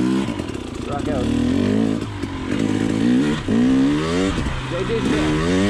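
A 2020 KTM 300 XC TPI two-stroke dirt bike rides a trail, its engine rising and falling through repeated revs close by, partly under a voice.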